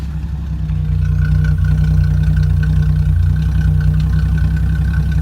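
A 1981 Datsun 280ZX T-Top idles steadily at close range, a low, even engine burble holding a constant rumble with no revving, alone without voices.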